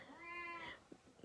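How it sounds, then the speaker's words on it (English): A cat meowing outside a shut door, one drawn-out, tonal meow heard faint and somewhat distant, followed by a couple of soft thuds. "the cat is trying to get in the room because she can't, because I shut the door"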